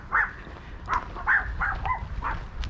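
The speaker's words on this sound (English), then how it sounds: "Barky dogs." Several dogs bark in short, sharp bursts at a campsite service point near Torremolinos and Fuengirola, about six yaps in an uneven rhythm at moderate distance over a low background rumble.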